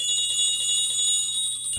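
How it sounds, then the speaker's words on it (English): Wind chimes in the Minecraft Legend of Notch RPG mod ring in a steady bright shimmer of high metallic tones, sustained and fairly loud for under two seconds with no talking. "listen to the wonderful chimes in the wind"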